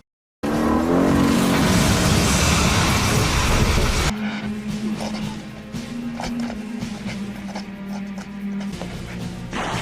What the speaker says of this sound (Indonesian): Dalam perjalanan, Andy menabrakkan mobil dan mereka berdua kecelakaan.